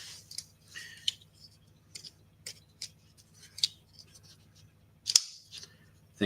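A Cerakote-finished EDC pocket knife is flipped open and closed repeatedly, giving sharp, close metallic clicks and snaps at irregular intervals over a quiet low hum.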